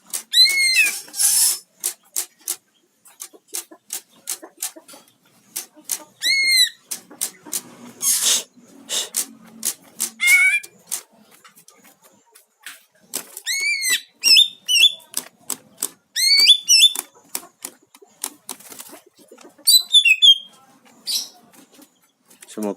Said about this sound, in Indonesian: memancing emosi burung cucak hijau